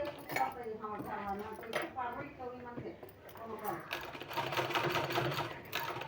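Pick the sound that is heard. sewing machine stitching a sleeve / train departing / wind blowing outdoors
sewing machine stitching a sleeve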